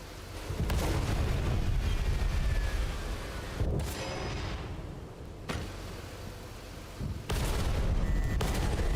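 Tank cannon fire in the console version of World of Tanks: several heavy booming shots with rumbling low-end blasts and decaying tails, loud and close, separated by short quieter gaps.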